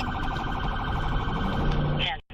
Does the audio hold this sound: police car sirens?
yes